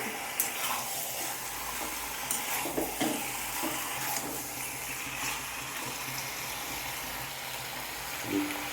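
Chicken and taro stirred in a frying pan, a steady sizzle under a spatula scraping and turning the pieces, close and even throughout with no talk.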